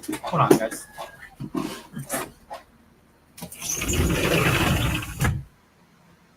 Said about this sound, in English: my neighbors started hammering and drilling